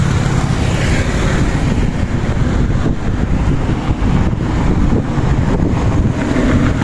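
Strong wind buffets the microphone along a coastal road in Davao City, a loud, steady low roar with gusty rumble and no voices.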